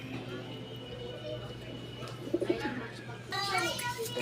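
Pigeons kept in a breeder's loft coo softly in a low, rhythmic burst, faint beneath steady background hum, with a person talking near the end.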